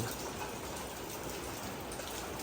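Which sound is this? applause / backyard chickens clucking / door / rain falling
rain falling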